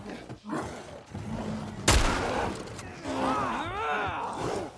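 Gunfire against a Bloater in The Last of Us Part 1 on Grounded difficulty, a single sharp loud shot followed by the creature's growling, with a player talking faintly around it.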